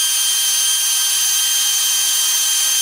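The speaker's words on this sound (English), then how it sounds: "I'm going to be extremely careful and only drill down" A steady, high-pitched whine of a drill boring into wood for a turned German smoker figure runs continuously and loudly from start to finish, with no pauses or voices.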